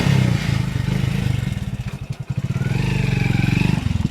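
A motorcycle engine runs steadily up close with a low mechanical chug and some clatter, revving as the bike pulls away, with no one talking over it.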